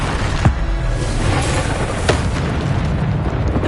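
Bombarda explosion spells in Hogwarts Legacy, two sharp booming blasts about a second and a half apart over a dense, rumbling game background, with no talk.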